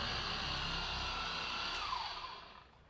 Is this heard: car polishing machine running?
yes